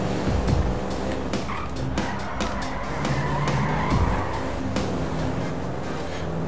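A car in Grand Theft Auto 5 Online drives hard with engine roar and repeated tire squeals and skids, loud and continuous over the whole stretch.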